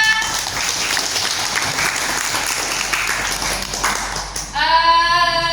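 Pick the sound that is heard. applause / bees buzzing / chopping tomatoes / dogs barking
applause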